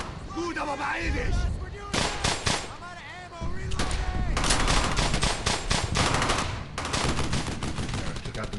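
Machine gun fire in the World War II shooter game Brothers in Arms: dense, loud bursts of automatic gunfire with scattered single shots, nearly continuous, mixed with shouted voices.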